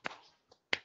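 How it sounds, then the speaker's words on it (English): A few sharp hand claps, close and crisp, with one light clap in between, ring out in a quiet room during a children's English lesson song. "Clap your hands."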